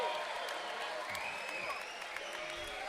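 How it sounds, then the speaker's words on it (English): Crowd at an MMA fight event applauding and cheering for both fighters, a dense continuous wash of clapping filling the arena, with an announcer's voice over it. "let's give both of these fighters a big round of applause"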